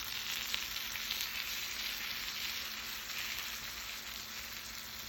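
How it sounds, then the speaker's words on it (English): Eggplant frying in olive oil with melted butter gives a dense, even sizzle, a close, steady crackling hiss that runs unbroken from start to finish with no voices. "You fry it until it's crisp on the bottom and flip it over."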